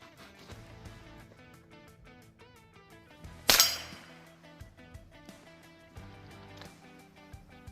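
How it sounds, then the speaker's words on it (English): A Ruger 10/22 rifle firing .22 Long Rifle rounds at AR500 steel body armor, heard as one sharp crack with a ringing metallic clang that fades over a second, set against a steady musical background. "Ruger 1022, 22 long rifle"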